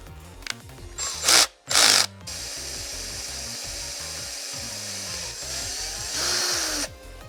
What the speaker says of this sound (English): We're also gonna drill a small hole in the front of this pusher right here.